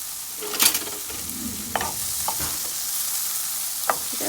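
Onions sizzle and fry in a little oil in a pan for a Guyanese stew, with a steady hiss and a few scraping stirs of a utensil against the pan, close and fairly quiet, no voices.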